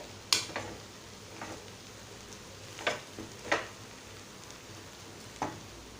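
Cooked rice being stir-fried in a pan for Maharashtrian phodnicha bhat, with a faint steady sizzle and a few sparse scraping stirs spaced across a few seconds, close and quiet with no talk.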